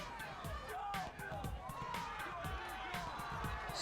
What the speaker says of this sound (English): love seeing the crowds fired up, cheering their guys on.